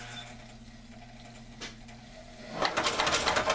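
An electrified Chinese sewing machine sewing a running stitch: quiet motor hum with a few faint clicks, then a louder, fast rhythmic stitching rattle starts near the end.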